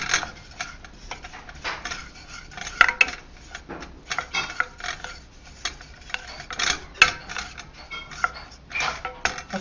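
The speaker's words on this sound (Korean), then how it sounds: "버터하고 밀가루가 잘 섞이게 이렇게 볶아주면" Butter and flour are stirred together in a frying pan to make a sauce. A utensil scrapes and clinks against the pan in close, irregular bursts, with no voices.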